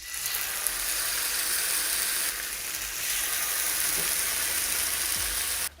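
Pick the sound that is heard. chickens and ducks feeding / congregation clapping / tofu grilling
tofu grilling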